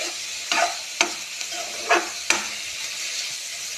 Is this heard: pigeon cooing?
no